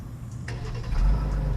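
2021 Jeep Grand Cherokee L Summit Reserve with its 3.6-liter V6 starting: a brief starter crank, then the engine catches and swells into a low, close idle rumble.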